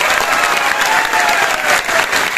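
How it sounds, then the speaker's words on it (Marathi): Audience applause from a crowd at a student gathering, steady and loud throughout with dense clapping, no talk over it. "एकदा हृदयाच्या तळापासून जोरदार टाळ्या"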